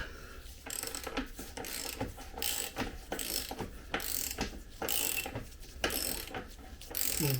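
A wrench ratchets steadily on an axle or adjuster nut of a Triumph Tiger 800 motorcycle during chain adjustment, giving repeated close clicking bursts in a regular back-and-forth rhythm with no talk.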